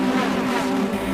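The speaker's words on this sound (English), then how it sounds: "Tightly tuned engines really sound the business here around Rockingham, and Paul Poulter makes his move." A tightly tuned racing car engine at Rockingham drones at a steady high pitch, loud and close, holding a constant buzzing note without pause.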